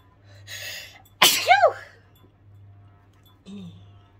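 A single sharp sneeze from a person honking into a hanky, loud and close with a gasping intake and a trailing vocal wail, followed by a brief muffled sound; quiet breathing noise and a low hum fill the rest.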